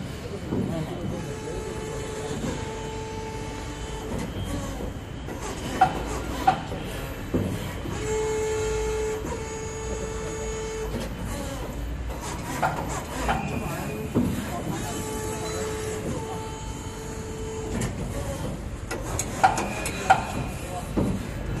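A Highshine HS-90 90-ton high-precision injection molding machine for plastic runs in a steady mechanical hum, with repeated cycles of sustained tonal whine and sharp clanks at intervals, close and continuous throughout.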